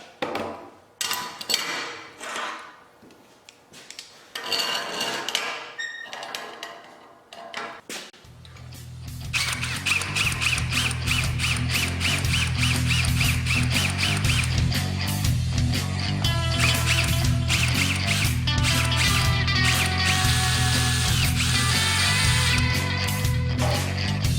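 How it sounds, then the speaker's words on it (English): Some light clattering and handling noises give way to a power drill with a 9/32 bit whirring steadily and grinding into metal, drilling out the pin of a crescent wrench, loud and continuous for a long stretch. "drill out the little ping part with a perfectly sized drill bit"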